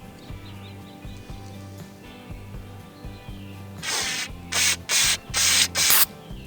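Gun scrubber cleaner sprays in four short aerosol hisses into the chamber of a Ruger 10/22 rifle, close and loud, the last two longer, over a low steady background hum.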